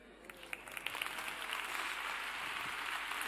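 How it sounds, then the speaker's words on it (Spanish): An audience at a Spanish popular-science talk claps together, a dense, steady ovation that starts with a few sharp claps and quickly fills in, staying loud and even throughout. "No sé si me merezco el aplauso"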